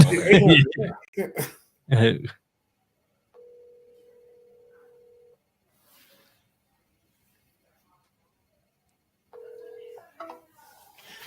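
A phone call being placed at a live direct-to-agent calling session, with talk at the start, then two long electronic ring tones separated by quiet, faint and isolated, before a voice returns at the end.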